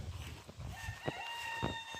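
Chickens cluck and a rooster calls nearby over a steady outdoor background, with a faint whistling tone partway through.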